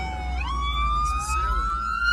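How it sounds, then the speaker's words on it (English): A police car siren wails loud and close, its tone sliding upward and then holding, over a low rumble of traffic, with no talking. "And the siren's going off."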